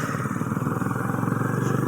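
A motorcycle engine on National Highway 16 gives a steady, close, loud drone with a rough, pulsing rumble. It holds level for the whole stretch.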